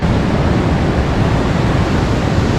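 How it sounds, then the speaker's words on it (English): Yosemite waterfalls in full early-summer flow produce a loud, steady, dense roar that fills the whole stretch without a break and with no voices. "these waterfalls are just rushing here in the early summer"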